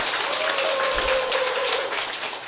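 An audience applauds at a meeting, a steady wash of clapping from a moderate crowd held at an even level, with a faint tone running beneath it.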